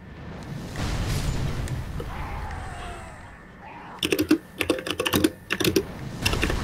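A low, noisy rumble gives way to sudden loud, close keyboard typing: sharp clacking keystrokes in quick irregular bursts for the last few seconds.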